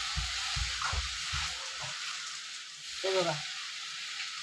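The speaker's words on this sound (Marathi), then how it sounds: "व्यवस्थित परतून घ्यायचं" Modak filling for ukadiche modak being sautéed in a pan, with a steady broadband sizzle throughout and a few low stirring scrapes near the start; a brief voice speaks partway through.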